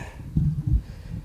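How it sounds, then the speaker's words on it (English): Soft, low rustling thumps from a hand shifting on a grip, two brief bumps close to the microphone, with quiet noise between. "the sound of the handle. Moving my hand a little bit."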